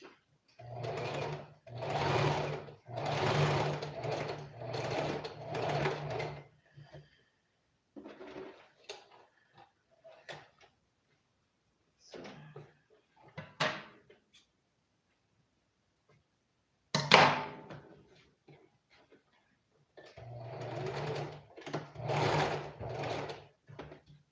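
A sewing machine zigzag-stitches an elastic band onto pants in several short bursts of rapid mechanical chatter, broken by pauses filled with small handling clicks and rustles, close and clear.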